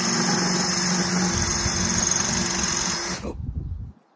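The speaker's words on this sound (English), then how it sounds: "All you do is drill into the top of it and shake it out." A drill bores steadily into the top of an ostrich eggshell, a loud, continuous high whine with a grinding edge lasting about three seconds, then cutting out abruptly into a brief, quieter rattle.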